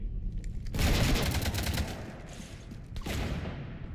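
Rapid automatic gunfire rips through a ship in Mass Effect 3, a loud dense burst that fades into echoing shots and then flares again, with no voices.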